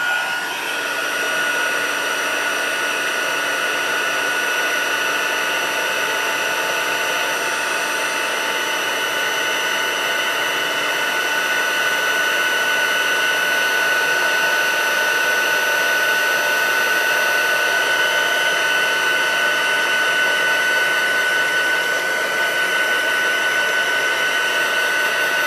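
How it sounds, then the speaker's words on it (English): Heat tool blowing steadily while drying ink on a craft card, a loud, continuous whirring hum with a constant high whine that holds unchanged throughout, with no talking. "I'm gonna dry this so I can add some more color."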